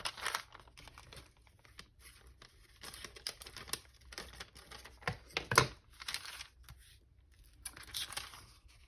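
Paper is being torn and crinkled while a journal is made from an altered file folder, giving scattered soft tearing and crumpling bursts close by with short pauses between them.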